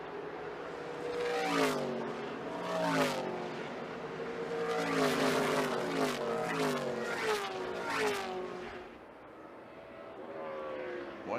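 NASCAR K&N Pro Series stock cars racing at Gateway Motorsport Park, loud engines roaring past one after another with rising and falling pitch sweeps, several close passes overlapping, no voices.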